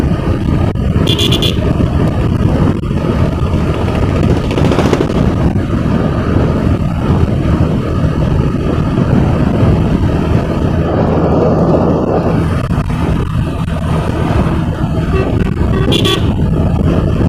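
A Bajaj Pulsar motorcycle riding on a highway at under 70 km/h during a mileage test. A loud, steady roar of engine and wind runs throughout, with a couple of brief horn toots.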